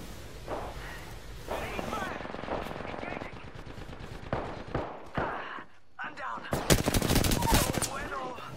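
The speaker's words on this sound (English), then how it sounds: "They're shooting at me." Apex Legends gunfire comes in bursts of rapid automatic fire and single shots, mixed with game effects and explosions, with a player's voice talking over parts of it.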